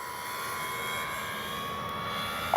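A Dynam BF-109 radio-controlled model warbird drones overhead on a final pass, a steady, fairly faint engine hum that holds level with no break and no talk.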